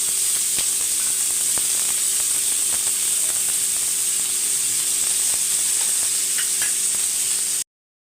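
Dried vanjaram fish frying in oil over low heat, giving a steady, close sizzle with faint scattered crackles throughout, no voices, ending abruptly in silence.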